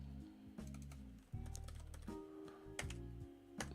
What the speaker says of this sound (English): Typing. I do it for a living.